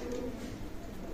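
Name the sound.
Oman bloodline teddy pigeons cooing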